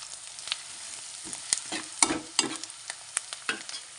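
Ginger and onions fry and sizzle in a pan for mutton curry, with a steady crackling bed broken by several sharp stirring scrapes and clatters; close and moderately quiet, no talking.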